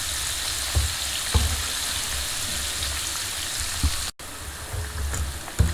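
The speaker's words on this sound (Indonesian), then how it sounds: "Oke, seperti ini kita goreng sampai kecoklatan" Close, continuous sizzling of chicken frying in oil until golden brown, with a few louder pops and crackles rising over the steady hiss.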